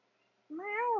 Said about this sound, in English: Meow, who's saying meow like that?